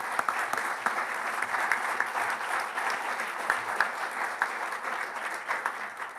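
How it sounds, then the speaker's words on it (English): An audience at a League of Women Voters candidate forum claps steadily for the candidates, a moderate, even stretch of applause with individual claps poking through, and no talking over it. "Can we get a round of applause for our place 3 candidates?"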